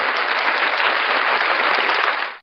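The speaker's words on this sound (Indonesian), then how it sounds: "tepuk tangan untuk Ananda Faiz Aprijo." Steady applause from participants in an online class meeting, a dense, even wash of many hands clapping that holds at one level and then cuts off abruptly, with no voices over it.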